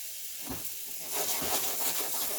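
Onions in a pan give off a broad hissing sizzle that swells louder about halfway through. The sound is close and continuous, with no talking.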